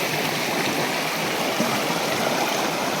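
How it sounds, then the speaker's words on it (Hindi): The Jhuri river flows and gurgles in a dense, steady rush of water close by, unbroken for the whole stretch with no voices over it. "देखिए गंगा माँ खलखला रही हैं"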